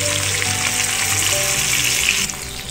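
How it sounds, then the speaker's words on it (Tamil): Pomfret fish frying in a pan over a normal flame gives a loud, steady, dense sizzle throughout, with no voices, easing slightly near the end. "மீன் நல்லா ஃப்ரை ஆகிடுச்சு."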